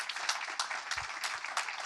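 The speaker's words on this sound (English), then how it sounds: "Give her a round of applause." Audience applause welcomes a woman named Flo to the stage at a MOEvement event, a steady, fairly faint wash of clapping with no pauses.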